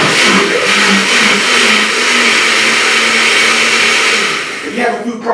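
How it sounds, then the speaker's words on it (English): Blender whirring steadily as it purees tomatoes, onion, jalapeños, serrano peppers and garlic into salsa, a loud continuous motor drone that slows and stops near the end. "I think the blender is a little more effective in making it a very fine sauce."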